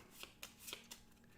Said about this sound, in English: and shuffle them up